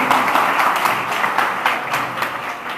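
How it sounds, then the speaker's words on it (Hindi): A school audience claps loudly at a Green Public High School technology quiz match, with a dense, steady wash of many hands applauding throughout. "एक बार जोरदार तालियां बजा दीजिए आपके स्कूल"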